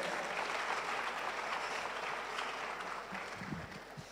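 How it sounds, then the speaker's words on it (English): An audience at a university research week event applauds researchers, a dense, steady wash of many hands clapping, fairly loud and continuous, tapering slightly toward the end. "A round of applause for all researchers."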